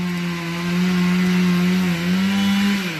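Chainsaw cutting through tall old-growth timber, engine screaming at a steady high pitch under load, loud and close, dipping slightly before a final bog-down as the cut finishes.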